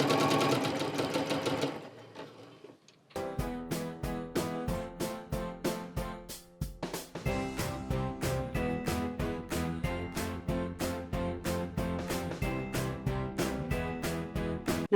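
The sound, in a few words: sewing machine stitching across fabric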